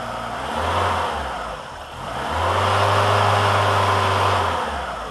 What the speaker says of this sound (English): To test the idle switch, you open up the secondary just a little bit. Idle will climb and then drop.